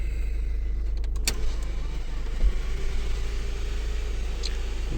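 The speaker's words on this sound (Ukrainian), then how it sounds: "отут у нас електролюк. Все працює." The electric sunroof of a VW Sharan runs inside the car, a steady motor whir over a low cabin hum with a couple of small clicks, close and without talk.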